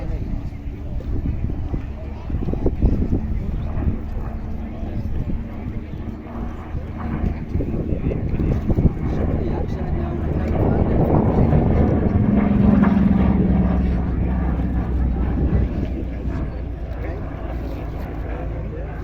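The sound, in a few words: Yakovlev Yak-3 fighter plane flying at East Kirkby Airshow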